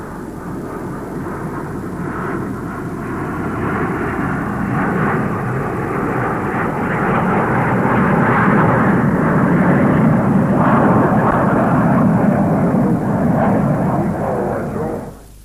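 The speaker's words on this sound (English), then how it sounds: "The first flying event was aerobatics by a team of jet provos, and the crowd was treated to a great display of close formation flying." A team of Jet Provost jets flies close-formation aerobatics at a 1969 club racing meeting, a loud, sustained jet roar that swells over several seconds, holds, then cuts off abruptly at the end, with no voices.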